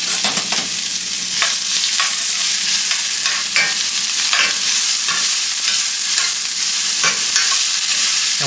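Shrimp fry in a hot pan with a constant loud sizzle, while a utensil stirs and scrapes them around in repeated close strokes. There is no talking.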